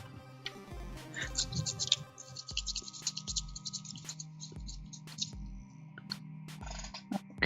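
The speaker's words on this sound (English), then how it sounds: "Toothbrush." A toothbrush dipped in alcohol scrubs a part of a Nintendo Game Boy DMG-01 during a screen replacement, giving close, repeated scratchy brushing strokes in an uneven rhythm, with no talking.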